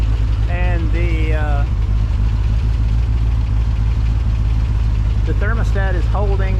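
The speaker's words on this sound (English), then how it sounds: "I've had the car sitting here idling for quite a while" A homebuilt supercar engine idles steadily with a low, even rumble throughout, while a person talks over it near the start and again toward the end.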